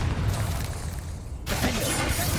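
The Accio summoning spell being cast in Hogwarts Legacy: a dense, crackling magical rush of noise with a short lull before a bright burst surges back in, close and loud, with a voice blended in.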